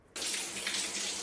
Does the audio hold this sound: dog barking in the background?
no